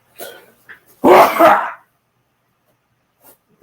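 A person sneezes once loudly and close, a short burst with a breathy tail, after some quiet vocal sounds; near silence follows.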